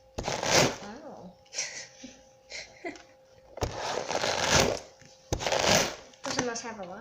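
A brush dragged through the hair skirt of an alligator gar fishing lure gives three scratchy, rasping bursts of strokes, close and fairly loud, with a voice heard in the pauses between them.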